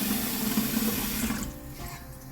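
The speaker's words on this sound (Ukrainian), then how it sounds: "наливаю чисту воду і ставлю каструлю з водою на вогонь" Clean water runs steadily from a tap into a cooking pot for borscht, a loud close rush that thins and softens toward the end as the flow eases.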